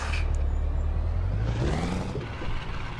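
A Scania R620 heavy truck engine in Euro Truck Simulator 2 rumbles low and steady, its pitch rising briefly as it revs, with no voices over it.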